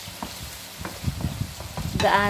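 Chicken and vegetables frying with soy sauce in a pan, soft sizzling under irregular stirring clatter, ending in a louder scrape and clink of a utensil against the pan.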